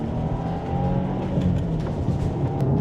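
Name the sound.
car accelerating hard in Golf R vs Subaru WRX drag race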